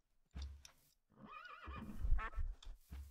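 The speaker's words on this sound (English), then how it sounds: "Oh, way too many horses in here." Horse whinnies in a modded Minecraft game: two loud, shaky neighs separated by a pause of near silence, with a soft thud at the end.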